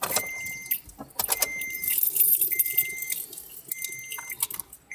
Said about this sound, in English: Vehicle immobilizer.